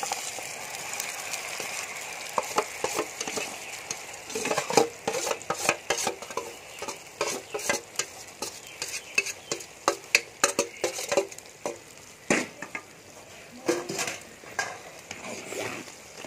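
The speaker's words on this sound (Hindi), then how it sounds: "अब मैं इसके अंदर भीगी हुई सूजी डाल लूँगी" Soaked semolina in sugar syrup for dodhi halwa, stirred with a spoon scraping against the pot in an irregular run of clinks and scrapes, fairly close, with no talking.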